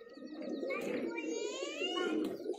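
Highflyer pigeons from a long-kept breeding line coo softly in a loft, with warbling calls and chirps repeating close by over a steady murmur of voices.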